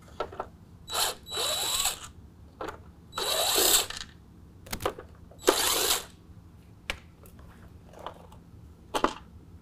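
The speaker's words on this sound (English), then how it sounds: "now we're going to use a 10mm to remove these 3 nuts to hold on the emblem" A ratchet with a 10mm socket removes the three nuts holding the emblem on a Ford F-150, heard as short bursts of ratcheting clicks separated by quiet pauses.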